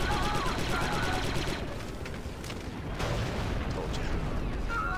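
Rifle gunfire fills a Star Wars: Republic Commando firefight against droids, a dense continuous barrage of shots and blasts with a rapid rhythmic burst early on, loud and close throughout.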